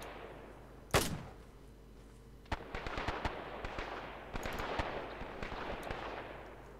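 Bren light machine gun firing in ARMA 3 during a WW2 Canadian push into Germany, one sharp loud shot followed by rapid bursts of gunfire crackling with other shots in a busy firefight, no talk.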